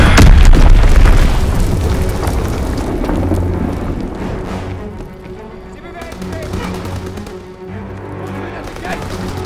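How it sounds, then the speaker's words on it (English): Enemy mortar fire in the Call of Duty: WWII game hits with loud, heavy booms at the opening and then rolls into a continuous rumble of distant explosions and gunfire, while soldiers' voices shout over the battle. "Enemy mortar fire incoming!"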